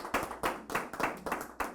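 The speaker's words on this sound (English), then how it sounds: "Round of applause." Scattered hand claps from a small audience at a casual Christmas bar talk show, about six distinct bursts in under two seconds, fairly quiet and uneven rather than a full roaring ovation.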